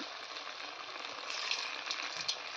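Chicken mince pakoras shaped into round balls deep-fry in hot oil, giving a steady, even bubbling sizzle with soft crackles throughout and no voices.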